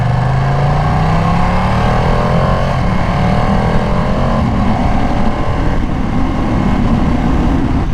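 Rare Ducati motorcycle engine under way, a loud steady drone with rising harmonic sweeps as it pulls through gears, held below about 6,000 RPM during break-in, close and continuous with no talking.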